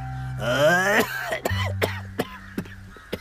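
An elderly woman coughs, a voiced rasping fit followed by a series of short, sharp coughs spaced out at close range.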